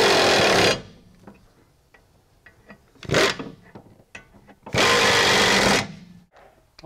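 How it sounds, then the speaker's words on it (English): An air ratchet runs brake caliper bolts in on a Ford Taurus rear brake job, loud close whirring bursts with short clicks and clatter of tools in between. "I always run my bolts up in with an air ratchet because it takes less time"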